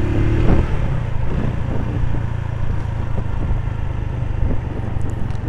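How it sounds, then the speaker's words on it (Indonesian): Cars and motorbikes speed past on a city street in Cirebon, near Perujakan station, making a steady, loud engine rumble with passing revs throughout. "Motor mobilnya kenceng-kencengan"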